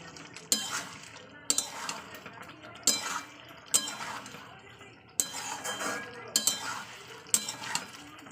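Fried potatoes are stirred into a meat curry in a pan, with a spoon clanking against the metal at a regular rhythm and soft sizzling heard between the knocks.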